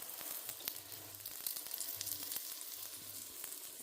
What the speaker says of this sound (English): If it sizzles, then that means the oil is hot enough.